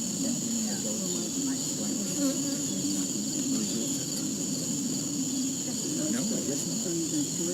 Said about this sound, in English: We'll shake the bees in, Shake the bees into the bucket.